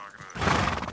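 A horse in the video game Kingdom Come 2 lets out a single loud, close whinny lasting under a second, bursting in after a quiet moment and tailing off.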